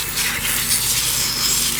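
Water sprayed at full pressure onto a dirt bike during washing, a continuous broad hiss and rush that stays loud and even from start to finish, with no voices.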